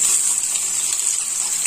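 Onion dropped into sizzling mustard seeds for vegetable rava upma gives a bright, steady hiss of hot oil close up, with no voices.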